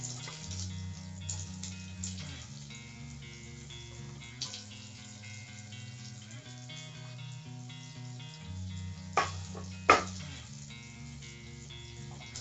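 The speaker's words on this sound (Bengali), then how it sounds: "এর মধ্যে আমিও দিয়ে দেব ছোট ছোট করে যে পেঁয়াজটা আমি কেটে নিয়েছিলাম সেটাও দিয়ে দেব।" Chopped onion dropped into a pan of frying okra, giving a steady, soft sizzle throughout with a couple of brief clinks near the end; quiet and close.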